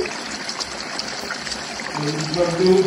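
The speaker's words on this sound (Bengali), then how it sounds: "এবার আমি ঢেলে দিচ্ছি।" Thick ground appam batter paste poured out of a kitchen mixer jar, a soft continuous wet trickle and slop that grows somewhat louder toward the end.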